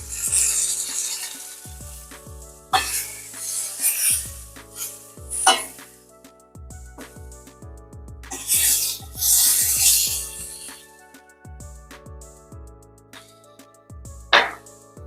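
Hands rub and work seasoning into a Caribbean jerk pork tenderloin, soft scratchy rasping strokes coming in irregular bursts over a steady low background, close and fairly quiet throughout.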